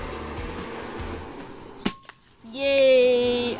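An FX King air rifle fires a 26-grain Javelin slug at a starling during outdoor airgun pest control: one sharp, close crack stands out above steady background ambience, and a sustained tonal whine follows soon after.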